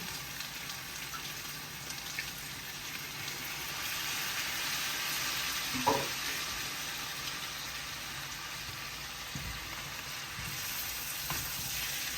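Chili peppers frying in hot oil for Malaysian-style chili chicken, a steady close sizzle running throughout with a brief stir or clatter near the middle and no talking.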